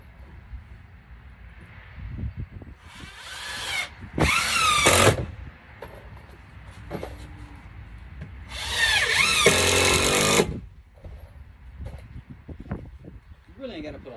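A power drill driving screws into joist hangers during building work, whirring in two bursts of a few seconds each, close and loud, with quieter handling and movement noise between.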